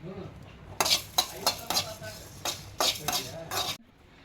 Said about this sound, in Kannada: ಇವಾಗ ಇದನ್ನು ಸ್ವಲ್ಪ ರೋಸ್ಟ್ ಮಾಡ್ಕೊಂಡ್ರಿ, ಬಾಳೆ ಬೇಡ್ರಿ, ಸ್ವಲ್ಪ ಅಷ್ಟೇ ಮಾಡ್ಕೊಳ್ಳೋಣ.